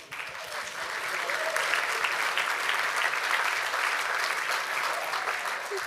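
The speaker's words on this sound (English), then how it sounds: "So welcome and applause." Steady, sustained applause from a large conference audience at a radio industry event, a dense wash of clapping that holds at full strength throughout with no voices standing out.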